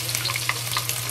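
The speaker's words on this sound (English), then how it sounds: "The oil start frying." Chopped ginger and scallion fry in hot oil in a pot, giving a steady close sizzle dotted with quick crackles and pops, with no voices.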